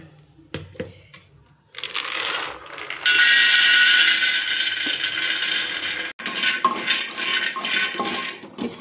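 Peanuts roast in a pan on the stove, starting with a few light knocks and clatters, then giving way to a loud, steady dry rattle and rustle as the kernels are stirred.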